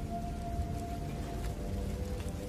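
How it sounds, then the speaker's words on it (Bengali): Steady rain falls outside during a storm, a continuous even hiss with no voices. "বাইরে বৃষ্টি পড়ছে অনেক সময় ধরে।"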